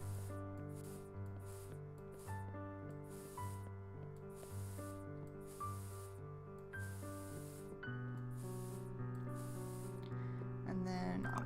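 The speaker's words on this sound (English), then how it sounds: "Now we'll go back in here with our spray paint here, and we'll get that like really nice soft look." Spray paint from the painting tool in the game Passpartout hisses in about seven short, evenly spaced bursts over steady background music.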